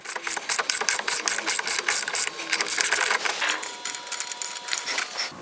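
A 36mm socket turning a nut the rest of the way off a Porsche 356 brake, giving steady close metallic clicking and rasping ratchet-like scraping throughout, with no talking.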